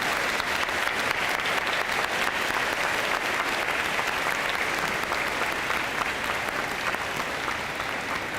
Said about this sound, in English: Please join me in another round of applause for those veterans who have joined us here today.